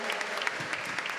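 Brief steady applause from the audience at a solemn diploma ceremony in honour of a deputy, an even patter of many hands clapping.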